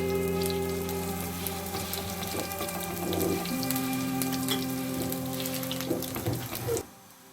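Desi ghee sizzles and crackles steadily on a hot griddle beside a cooking makki (corn flour) roti, a continuous frying hiss with faint clinks, no talk, ending abruptly.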